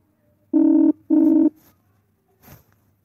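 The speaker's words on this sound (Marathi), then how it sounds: "फोन वाजून राहिला तुमच्या." A telephone rings twice in two even, buzzing tones, close and clear, followed by quiet with a faint rustle.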